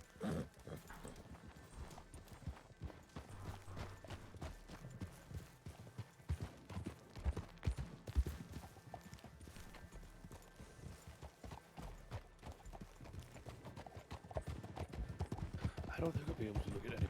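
Horse hooves clip-clop steadily through a RedM western roleplay scene, with an occasional whinny, running under continuous conversation between players.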